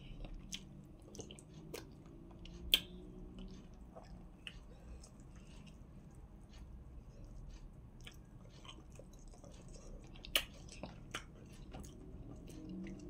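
Close, quiet mouth sounds of someone eating amala with assorted ogbono soup, soft wet chewing and occasional sharp bites over a low steady room background.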